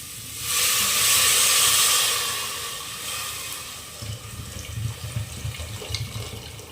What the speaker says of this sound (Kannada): ಇವಾಗ ಇದಕ್ಕೆ ನಾನು ನೀರನ್ನು ಆ್ಯಡ್ ಮಾಡ್ತೀನಿ.